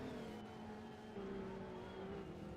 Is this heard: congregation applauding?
no